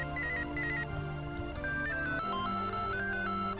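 A cell phone ringtone in the video game Mother 3, a bright, electronic, bell-like melody repeating in short phrases over steady synth backing, continuous and close.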